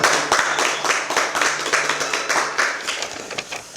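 Audience members at a political party's youth launch ceremony clap to welcome a speaker. The hand claps are brisk and close together, loud at first and tapering slightly over a few seconds.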